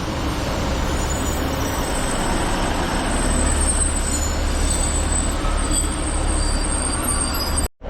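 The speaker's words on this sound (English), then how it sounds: "We've got the 1004 coming in as the Manchester Road train arrives" A Manchester Road service train pulling into Bolton station, with a steady rumbling roll, wheel hum and faint high squeals building over several seconds before cutting off abruptly.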